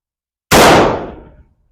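A single loud rifle shot from 1996 Ulyanovsk 7.62x39 8M3 ammunition fired into ballistic gel, a sharp close crack with a short decaying tail and no voices.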